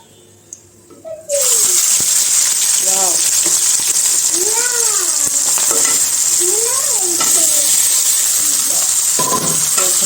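Marinated soya chunks and potatoes hit hot oil flavoured with cinnamon, clove and cumin, and a loud, close sizzle erupts and holds steady, while a voice talks over the frying.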